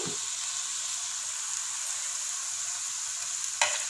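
Mutton mince frying with spices in a pan, a steady close hiss of sizzling fat with no talk, ending in a brief scrape or clatter near the end.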